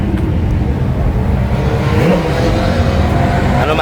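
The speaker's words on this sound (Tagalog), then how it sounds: "It's a drift car," A BMW drift car at a night trackday revs hard and loud close by, the engine droning steadily and rising in pitch partway through, with crowd noise underneath.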